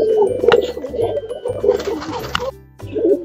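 White Coca fancy pigeons, a breeding pair, cooing in a loft with repeated low throaty coos in a steady rhythm, close by and moderately loud, broken by brief rustling and a short pause near the end.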